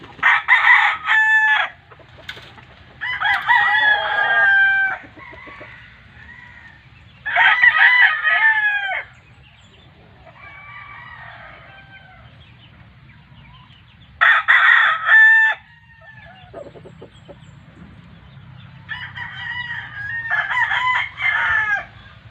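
Gamefowl roosters of Sweater and Kelso type crow repeatedly and loudly nearby at spaced intervals, with softer clucks and bird calls in between and a low background murmur.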